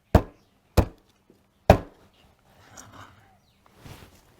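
Three sharp, heavy chops of a cleaver on a board, cutting through chicken at an uneven pace, followed by faint handling sounds.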